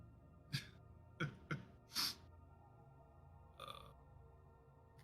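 A few short human bursts, sneezes or similar, come singly over quiet room tone, with one louder burst in the middle and a softer one later.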